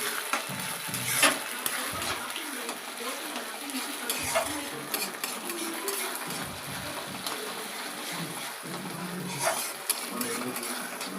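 Ginger garlic paste fries with onions in a pan for a spicy dry fish and tomato curry, giving a steady, fairly quiet sizzle broken by stirring scrapes and occasional utensil clinks against the pan.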